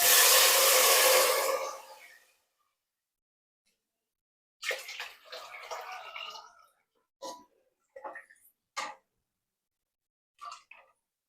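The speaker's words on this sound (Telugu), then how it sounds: "రైస్ అయితే 2 లోటాలు వాటర్ తీసుకున్నాం." Water for bagara rice is poured into a cooking pot in a loud, splashing gush lasting about two seconds. After a pause come several shorter splashes and sloshes.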